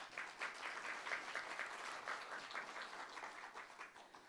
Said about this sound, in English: if you could please give those candidates another round of applause